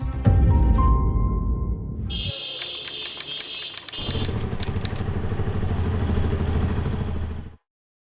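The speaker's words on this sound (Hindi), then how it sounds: "क्या भाई, कितनी तेज बाइक चलाते हो?" A motorcycle roars past at speed, its engine loud and close, then cuts to a rapid clattering burst before the engine drone returns and stops abruptly.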